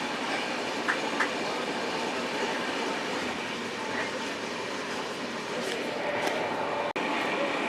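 The Nanded SF Express passenger train runs steadily on rails between Amritsar and New Delhi, with a continuous rumble and faint clickety-clack heard from inside, plus one sharp knock near the end.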